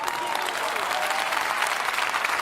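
An audience at a church sermon breaks into sustained, full applause, a dense wash of clapping with faint crowd voices underneath.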